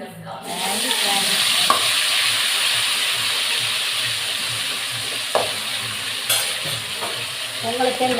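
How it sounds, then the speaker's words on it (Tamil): Cauliflower fry cooking in a pan, a steady close sizzle of frying with occasional sharp scrapes and clinks as the pieces are stirred. "பொறுமையாக உட்காந்து வறுக்கணும்."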